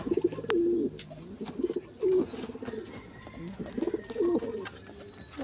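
Pigeons coo in a loft, several rolling coos repeating every second or so, close by, with scattered chirps and rustling in the background.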